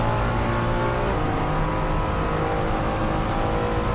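A Ferrari 296 GT3 race car engine revs hard and steadily as it accelerates out of the final corner at Sepang in a racing video game, loud and close, with a continuous strong drone and no voices.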